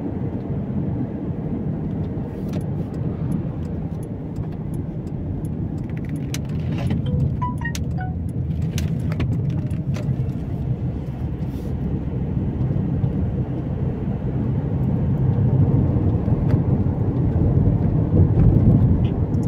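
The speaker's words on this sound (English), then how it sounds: "Driving around Houghton Regis." A car drives around town in Houghton Regis in the UK, with a continuous low engine and road rumble heard from inside that swells slightly toward the end, plus a few faint rattles and no speech.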